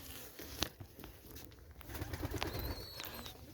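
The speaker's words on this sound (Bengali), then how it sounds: "তো এখানে আছে আমাদের একটি সাদা পায়রা এবং একটি কালো পায়রা" A white pigeon and a black pigeon sitting on their eggs indoors give soft, low cooing murmurs, fairly near and quiet, with a sharp tap and faint rustling in between.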